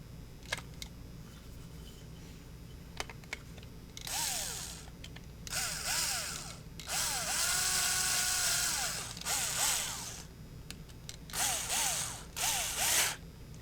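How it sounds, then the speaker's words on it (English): Screws are drawn back into a Pemko 379CPK adjustable jamb weatherstrip by a power driver at low torque: several short, close whirring bursts with ratcheting clicks, separated by quiet pauses. "Let me draw these screws back in."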